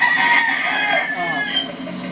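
A rooster in a holding pen crows loudly and nearby, a strained, drawn-out cock-a-doodle-doo with faint clucking around it.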